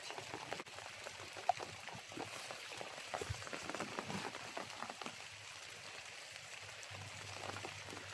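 Rain falling over a watermelon field in summer, a soft, steady patter of drops with occasional louder taps nearby, faint and continuous throughout.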